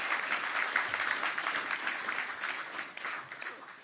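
An audience at a panel event on the UN sustainability goals gives a short round of applause, dense steady clapping that fades slightly toward the end, with a little talk underneath.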